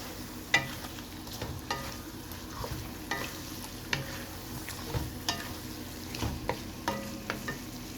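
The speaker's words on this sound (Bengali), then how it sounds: "এখন খুব ভালো করে মশলাটা কষিয়ে নিই" Spice masala fries in a pan for a Bengali hilsa fish head and Malabar spinach dish, a low steady sizzle under repeated light scrapes and taps of a stirring spoon.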